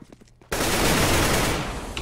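Sudden loud burst of gunfire in a competitive first-person shooter match, a continuous roar of shots starting after half a second of quieter background and tapering slightly at the end.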